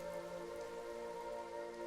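Steady, soft rain falls at night, a quiet continuous patter with a faint, even tonal drone running underneath it.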